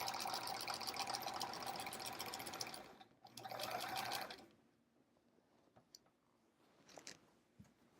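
A sewing machine with a walking foot runs steadily while quilting a thick sampler quilt, a dense close whirring that breaks briefly and resumes, then stops, leaving faint handling noises and scattered soft clicks.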